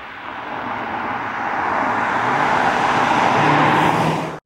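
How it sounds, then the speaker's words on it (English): BMW X2 M35i crossover engine pulling away gently and holding its gears, a smooth rising drone that grows steadily louder and climbs in pitch, heard from inside the car with no talk. "So if I just pull away at a normal speed, rather than the, a million miles an hour, so you can hear how long it holds onto gears for as well"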